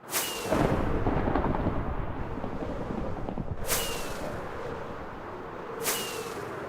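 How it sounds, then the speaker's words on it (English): Thunder rumbles in a single-player block-building game world during rain, with three sharp cracks spaced a few seconds apart over a steady roar of rainfall, and nobody talking. "Oh, it's thundering."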